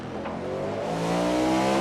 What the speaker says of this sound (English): Faster traffic approaching.